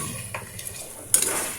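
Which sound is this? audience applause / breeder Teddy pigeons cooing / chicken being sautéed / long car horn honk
chicken being sautéed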